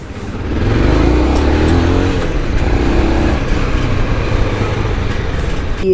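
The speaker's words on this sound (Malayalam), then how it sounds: "അങ്ങനെ BMW ആദ്യത്തെ start and first ride on the road" BMW F650 motorcycle engine, freshly fired up and pulling away on its first road ride, gives a loud, steady low rumble that swells within the first second and holds throughout.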